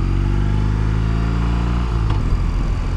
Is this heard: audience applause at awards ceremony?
no